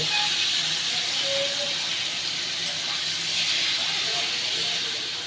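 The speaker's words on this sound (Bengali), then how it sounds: "এবার আমি পনিরটা ভেজে নেব" Paneer sizzles in a kadai of hot white oil, a steady, loud, broadband hiss of frying that holds evenly throughout without pause.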